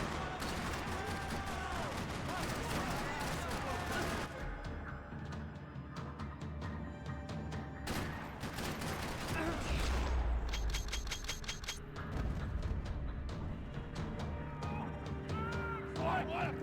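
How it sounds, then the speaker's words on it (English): Gunfire rattles through a parking lot in the Max Payne 3 video game, with clusters of sharp shots and bursts of automatic fire mixed with game sound effects, while a voice speaks at times over the action. "Another parking lot rattling with gunfire."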